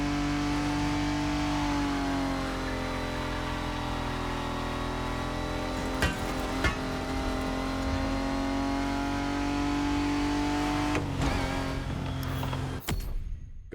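The Jaguar CX-75 concept car's engine in The Crew Motorfest video game drones steadily at a strong, close level for over ten seconds, its pitch shifting slightly, before cutting off near the end.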